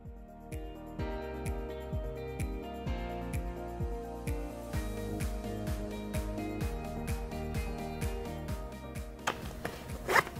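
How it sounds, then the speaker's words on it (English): A zipper pouch's slider is pulled back and forth repeatedly, giving a steady run of close, crisp zipping strokes with rhythmic clicks, loud and alone, ending in a sharper burst of rustling. "That zipper works real good."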